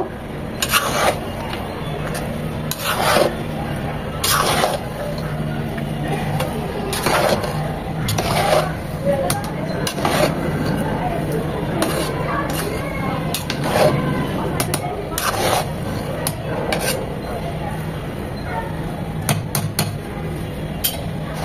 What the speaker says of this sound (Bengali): এখন সবকিছু নেড়ে চেড়ে মিশিয়ে নেব